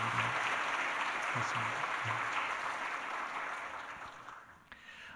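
A church congregation applauds in celebration, steady clapping from many hands that slowly thins out, with a voice speaking briefly over it early on.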